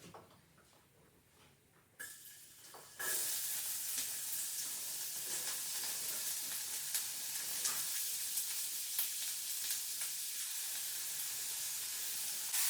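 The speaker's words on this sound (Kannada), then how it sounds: "ಎಣ್ಣೆ ಕಾದ ತಕ್ಷಣವೇ ಈರುಳ್ಳಿ ಹಾಕಬೇಕು." Sliced onions hit hot oil in a pan for a Malnad-style mushroom masala, bursting into a loud, steady sizzle that stays strong and continuous after a brief quieter start.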